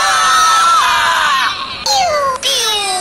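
High, shrill screams ring out loudly, one long wail followed by two sharp rising cries after a brief cut.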